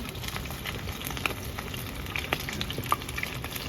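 Chicken tikka pieces frying in a generous amount of oil, a continuous close sizzle with scattered small pops and crackles throughout, no voices.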